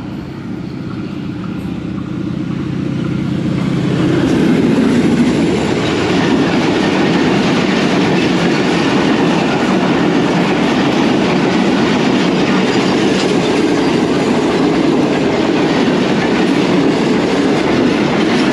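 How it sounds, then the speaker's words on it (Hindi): Karachi Express passenger train hauled by a ZCU-30 locomotive rolls slowly past, a steady loud rumble of wheels and carriages that swells in the first few seconds and then holds, with a faint rhythmic clatter over the rails. "ट्रेन आप देख रहे हैं स्लो स्लो गुजरती हुई"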